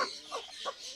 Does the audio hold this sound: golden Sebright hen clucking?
yes